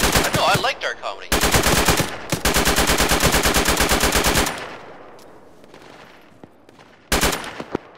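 Loud, rapid machine-gun fire in the military video game Arma, two long sustained bursts with a short break, then a fading tail and a final brief burst.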